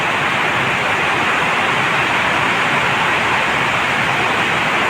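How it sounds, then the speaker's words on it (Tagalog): Heavy rain shower at NAIA Terminal 1, a dense, steady hiss of downpour that stays loud and unbroken throughout, with no voices standing out. "Malakas ang ulan."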